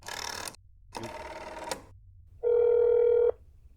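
A video game phone: two bursts of rapid dialing noise, then a single steady electronic ring tone that holds for under a second before cutting off, with no voices.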